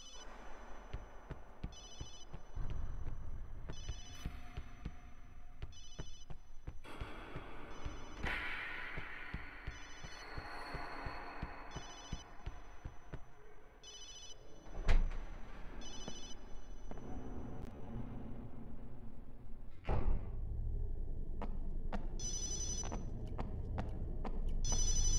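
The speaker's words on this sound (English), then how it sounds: "I should have turned off my cell phone." A cell phone rings in the PS2 survival horror game Obscure, with repeated electronic ring bursts over a low, pulsing background of game ambience and thuds.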